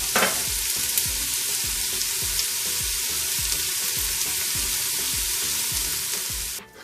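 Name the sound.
onions and goat paya sautéing in a pot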